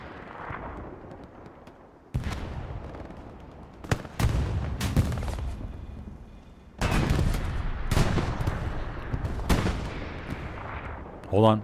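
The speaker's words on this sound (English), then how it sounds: "You hear explosion around the circle?" Explosions and bursts of gunfire in the World War II shooter Hell Let Loose on the Omaha Beach map, with heavy booms at irregular intervals, some close and loud and others more distant, alongside faint voice chatter.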